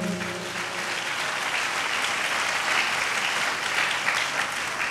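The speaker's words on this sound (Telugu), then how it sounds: "చప్పట్లు కొట్టండి గట్టిగా" A church congregation at a sermon claps loudly and continuously, a dense, even wall of applause sustained for about five seconds with no speech.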